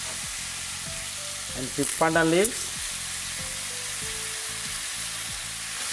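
Lemongrass going into a pan of Sri Lankan goat curry, with a steady frying sizzle throughout and a brief louder hiss and clatter near the middle; a voice speaks briefly.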